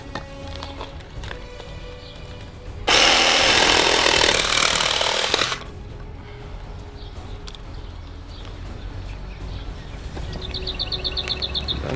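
A power saw cuts through a wooden frame piece for a campervan bathroom vent, a loud, dense burst lasting about three seconds amid quieter workshop background, with no talking.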